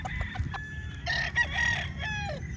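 Young gamecock stags crow in short, thin calls and cluck nearby, several birds overlapping in a farm yard with a low steady background rumble.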